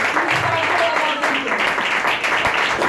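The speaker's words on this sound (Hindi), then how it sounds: "एक जोरदार तालियां बजाइए" Congregation clapping in a Pentecostal church service, a short burst of steady applause filling the room, with some voices mixed in beneath it.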